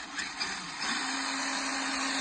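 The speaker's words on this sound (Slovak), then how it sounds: "motor." Electric motor of a Traxxas TRX4 Sport RC crawler truck whirring, rising at about one second into a steady, close, high-pitched whine that holds to the end.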